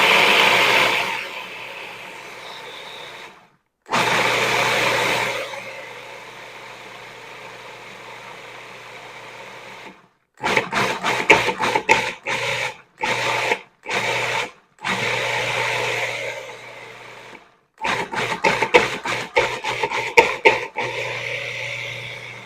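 A food processor grinds roasted almonds into almond paste, running first in two long loud whirring runs, then in many short pulsed bursts separated by silences, close to the listener.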